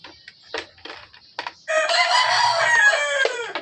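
After a few short clucking noises, a voice launches into a long, loud crow imitating a rooster, close and clear.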